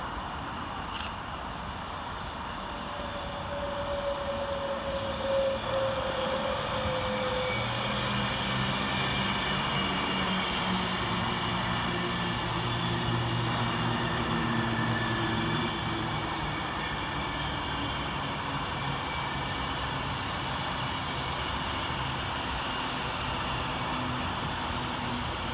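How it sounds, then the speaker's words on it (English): An Avanti West Coast Class 390 electric train arrives at Milton Keynes Central, a long steady rumble and hum that swells and holds as it rolls in, heard from the platform with a broad wash of rail noise. "Next to arrive into the station is 390-042, working the 1252 Avanti West Coast service from London Euston to Edinburgh Waverley"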